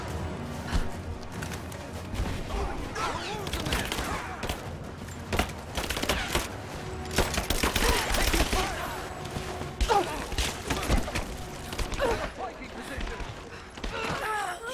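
Gunfire in the video game Rise of the Tomb Raider, dense bursts of shots and thuds running throughout under in-game voices and game sounds.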